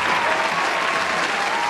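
Dense crowd applause at a boxing match fills a short burst, loud and continuous like a packed arena clapping together without pause or distinct individual claps.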